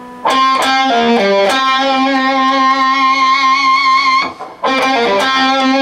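A distorted electric guitar lick plays alone: several quick picked and bent notes, then a long sustained vibrato note, a short break, and a few more fast notes.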